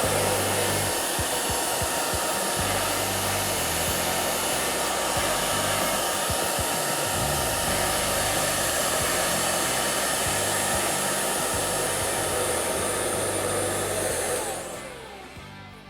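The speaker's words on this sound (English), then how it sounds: "Now we get to seal it with a hairdryer." A hair dryer blows steadily and loudly at close range for about fourteen seconds while heating TALON grips applied to a Ruger LC9s pistol, then cuts off abruptly at the end.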